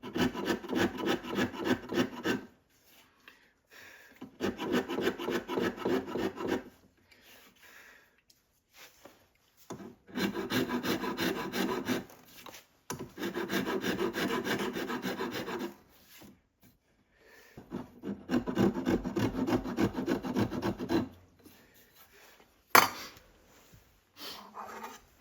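Hand rasp shaping a wooden gunstock for a Ruger .44 carbine, with repeated bursts of coarse scraping strokes, each lasting a couple of seconds, separated by brief pauses, close and fairly quiet.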